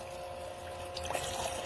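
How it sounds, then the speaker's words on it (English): Water runs from an electric toy play sink's faucet and pours down an elephant figure, a steady trickle with a faint pump hum and a few splashy spurts toward the end. "You can move it here to the elephant and take off his hat and let it pour water down the elephant"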